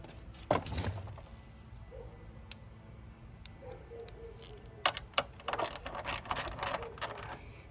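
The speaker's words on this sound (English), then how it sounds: "Let me loosen up the other side and see what happens." Ratchet wrench loosening fender bolts on a Honda C125 Super Cub motorcycle, several quick bursts of close, crisp clicking with a louder thud near the start, in an otherwise quiet space.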